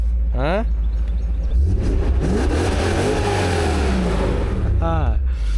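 A BMW M5 E39 V8 revs hard in two sharp rising bursts, one at the start and one near the end, with a loud, rumbling idle and a long swelling roar between them.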